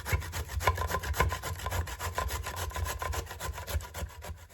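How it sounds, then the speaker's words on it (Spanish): Squash is grated for pupusas in a kitchen, giving a steady, rhythmic back-and-forth rasping close to the mic, with each stroke even and repeated without a break. "para preparar nuestras pupusas de calabaza, vamos a rallarla y que nos quede bien ralladita"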